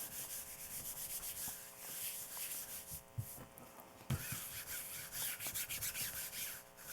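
A steady, repetitive rubbing and rolling sound of a brayer moving back and forth over laser-print transfer paper on acrylic, close up, with a few sharper bumps.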